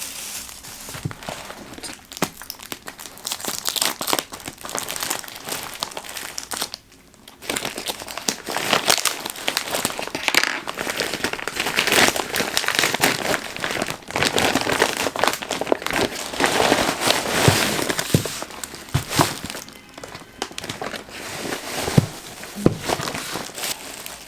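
Crinkling plastic and paper packaging being torn open and handled up close to reveal a sponge, a continuous loud rustling and crumpling with brief pauses and occasional sharp rips.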